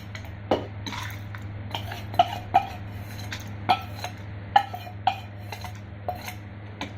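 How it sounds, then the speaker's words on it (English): Dry ingredients for a capsicum chutney, including dals, red chillies and tamarind, are spooned into a blender jar, giving a series of faint, sparse clinks and taps of utensil on jar over a low steady hum. "We are transferring the ingredients to the blender jar."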